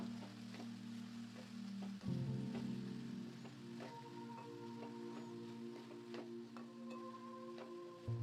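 Oil sizzles steadily as tomatoes sauté in a pan for ridge gourd gravy, with occasional clinks and scrapes of stirring over the constant frying hiss.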